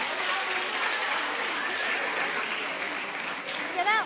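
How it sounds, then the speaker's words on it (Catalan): Audience clapping warmly during a Catalan spelling quiz game show, a dense, even burst of applause for a contestant that holds for several seconds, with faint voices mixed in. "Fora aplaudiment també"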